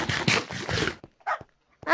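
Several dogs bark in the survival video game NightSurvival, sharp close barks and yips in quick clusters, then shorter scattered yelps after a brief pause.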